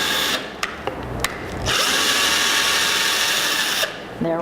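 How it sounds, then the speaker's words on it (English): A power drill bores nail holes in short bursts, a couple of brief whirs followed by a longer steady run of the motor, loud and close. "We're going to make these holes for the nails."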